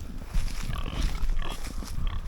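Homestead pigs waiting for food give a dense chorus of low, overlapping grunts and snuffles, close by and continuous, in freezing winter conditions.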